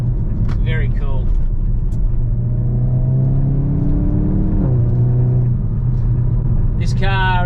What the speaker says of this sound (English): just the way it just shifts through those gears, it gives that little burp in between gears.